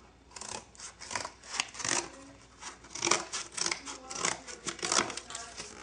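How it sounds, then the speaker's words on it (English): Scissors snip through a sheet of cardboard in a quick series of sharp, crunchy cuts, close and uneven in rhythm, with no talk. "you'll need to get a sheet of cardboard and cut out by about a foot by half a foot"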